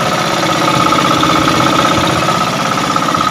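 A fishing boat's engine and a 3 kW dynamo idle together at sea off Masbate, a loud, close, steady throbbing drone with an even mechanical pulse and no voices.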